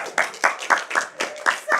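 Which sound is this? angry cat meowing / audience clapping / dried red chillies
audience clapping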